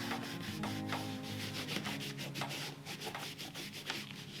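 Steady rubbing and scrubbing on light-coloured pebble grain leather Barker boots as the old finish is stripped off, a close, continuous abrasive swishing with rhythmic strokes and no voices.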